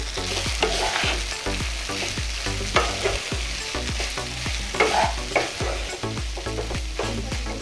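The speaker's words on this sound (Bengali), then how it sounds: "চিড়িটাকে দিয়ে আমরা সুন্দর করে একবার সমস্ত ইনগ্রেডিয়েন্টগুলোকে মিশিয়ে দেব" Poha being stirred into fried onions in a pan, a rhythmic series of spoon scrapes and knocks over a steady sizzle, close and with no talking.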